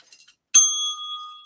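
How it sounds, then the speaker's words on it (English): A single hand bell struck once after a brief pause, ringing out clear and bright with a long, sustained metallic tone that slowly fades, heard alone with no talk over it. "I don't have a soundboard. I have a bell."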